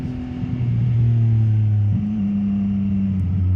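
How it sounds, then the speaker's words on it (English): A CF Moto 675 motorcycle engine drops through gears in smooth downshifts, its steady drone stepping down in pitch twice over a continuous rumble of wind and road, close and loud, no talking. "I can't get over these downshifts. They're so smooth."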